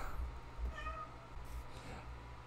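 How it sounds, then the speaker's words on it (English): A cat meows within the Minecraft video game, producing two or three short harmonic cries over a steady low background hum at moderate loudness. "Damn it, cat."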